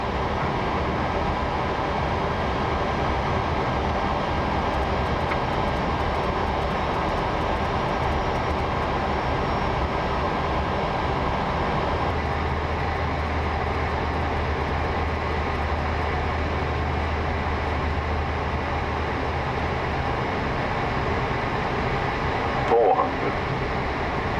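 Cockpit of a Vueling Airbus A320-200 on landing approach: a loud, steady roar of engines and airflow fills the whole clip, with the low tone shifting partway through and a short clunk near the end.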